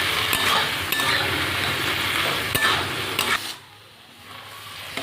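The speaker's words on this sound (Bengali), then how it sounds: "একটু ঘেটে নেব।" A spoon stirring soft melted potatoes and tomatoes in a pan, with steady scraping and sizzling near the mic, then a brief quieter pause before the stirring resumes.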